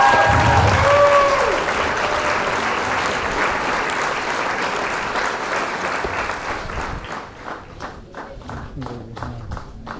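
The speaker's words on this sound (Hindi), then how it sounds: "जोरदार तालियों के साथ इन बच्चों की हौसला अफजाई करते रहिएगा।" Audience applause for cadets at a police passing-out parade in Arunachal Pradesh, loud and dense at first, then thinning into scattered claps that die away.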